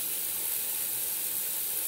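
Steady broadband hiss of water running from a tap into a sink, constant and fairly close, with no voices.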